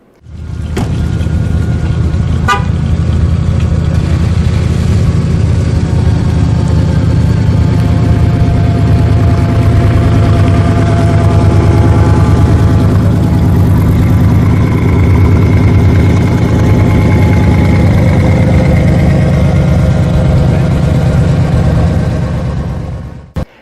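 Corvette CERV III concept car with a 650-horsepower LT5 twin-turbo engine runs steadily for the whole stretch, a loud, deep and sustained rumble with a brief sharp tick early on.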